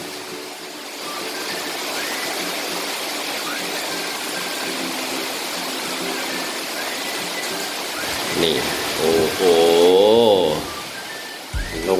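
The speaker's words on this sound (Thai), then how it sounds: "มาฮะฝนตกลงมาเนินฮะ ชุ่มฉ่ำเลยฮะ" Rain pours down in Sattahip after a long drought, a steady broadband hiss of drops on surfaces that holds evenly throughout, with a voice exclaiming briefly near the end.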